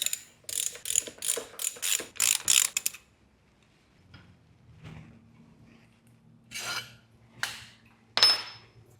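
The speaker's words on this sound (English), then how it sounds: "I think I'm going to use my ratchet to get them loose" A ratchet works loose tight, Loctite-treated handlebar bolts on a Talaria Komodo electric dirt bike, giving a quick run of sharp metallic clicks. Quieter tool handling and a few isolated clicks follow.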